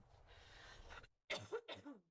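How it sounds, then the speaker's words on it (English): A sharp throaty cough bursts out in a couple of quick, close barks after a stretch of low rumbling noise, then trails off into silence. "here's my cough. Cough is back."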